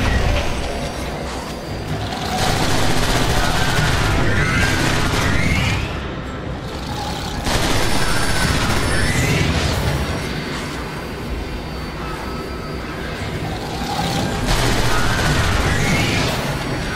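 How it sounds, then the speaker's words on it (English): Weapons fire from the video game Transformers War for Cybertron: dense, loud bursts of blasts and booms over mechanical rumbling, coming in waves that swell and ease back across the whole stretch. "Wait! That's not Autobot weaponry!"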